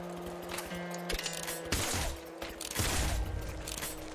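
In the video game Nuclear Throne, a crossbow that fires split bolts like a shotgun lets off a few sharp bursts amid busy game effects and a humming music bed, the shots clustered loud and close.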